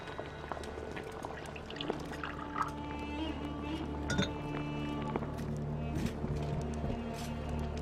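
Hot water is poured and cups clink in a quiet indoor scene, with a steady low hum beneath and a few light clinks scattered throughout.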